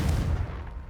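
A blasting spell goes off in the video game Hogwarts Legacy, a short, loud, rumbling explosion that fades within a second.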